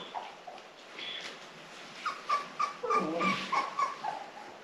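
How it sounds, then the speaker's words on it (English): A puppy whimpers and cries alone in a quiet room, with thin high whines rising into a run of sharper yelps toward the end. "Don't soothe your crying puppy."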